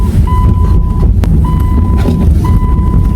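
A car's parking sensor beeps in steady, evenly spaced tones while reversing, heard over a loud rumbling engine and road noise close by.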